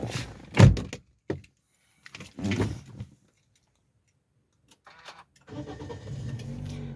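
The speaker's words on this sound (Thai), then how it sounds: "เดี๋ยวผมจะสตาร์ทเครื่องให้ดูดีกว่านะครับว่าเป็นอย่างไรนะครับ" A 2017 Toyota Yaris 1.2G, a small petrol car: a few door and handling knocks, a brief starter crank, a pause, then the engine catching and settling into a steady, quiet idle.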